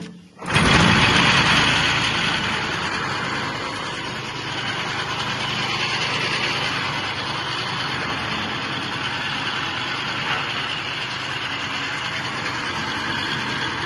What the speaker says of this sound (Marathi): आता मशीन चालू करता.